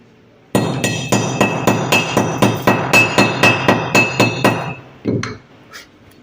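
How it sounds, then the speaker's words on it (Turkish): A hammer chips slag off a fresh electric arc weld in about a dozen quick, evenly spaced metallic strikes that ring brightly up close, ending in a few looser knocks. "kaynağın çapağı düzgün çıkıyorsa o kaynak düzgün olmuş demektir"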